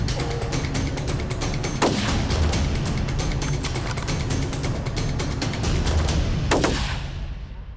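Two loud, sharp shotgun blasts on a goose hunt in Alberta, fired roughly five seconds apart over a steady rush of outdoor wind.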